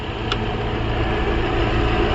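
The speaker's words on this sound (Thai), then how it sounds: "สตาร์ทเครื่องยนต์อยู่นะครับ" A 2018 Toyota Corolla Altis engine idles steadily up close, a continuous even hum with no revving and no voices.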